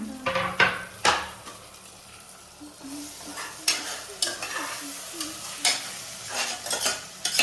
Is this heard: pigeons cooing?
no